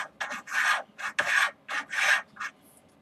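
A barrel nut is threaded by hand onto an LR-308 rifle upper, giving a series of close, rasping metal scrapes in short bursts separated by brief pauses.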